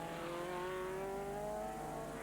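A 1986 Vision race car engine drones past during a Scottish Sports Clubman Championship race, a faint, steady, high motor whine that climbs slightly in pitch over a couple of seconds.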